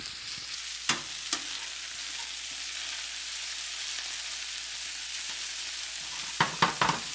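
Mussels fry in a pan with a steady, even sizzle, broken by a few sharp clicks and clatters of stirring near the start and a quick cluster of them at the end.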